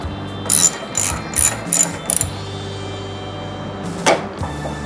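A socket wrench ratchets on the bolts of a 2007 Victory Vegas motorcycle during a drive belt change, several quick bursts of clicking close up, then a pause and one last short burst over a steady low hum.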